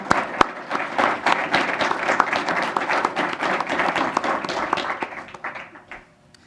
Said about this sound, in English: Let's all give our panel a round of applause.